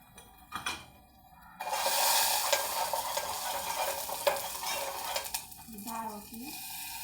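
Dal tempering with turmeric in a home kitchen: a loud sizzle bursts in after a quiet start, then a steady frying hiss with scraping stirring strokes, and a brief faint voice near the end.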